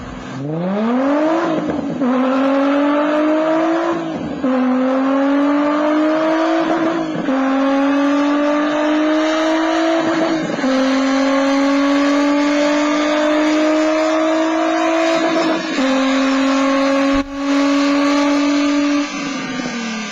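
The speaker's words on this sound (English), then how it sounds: "all you need to make your 350Z sound like this is an NVIDIA exhaust" A Nissan 350Z with an aftermarket exhaust climbs hard through several gears on a test track, each shift cutting the rising engine note before it pulls up again, loud and sustained with no voices.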